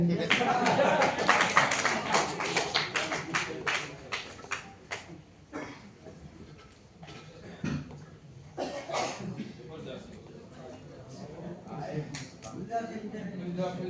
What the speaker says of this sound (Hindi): जैसे ये लोग ताली बजा रहे हैं ऐसे आप भी ताली बजाते रहिए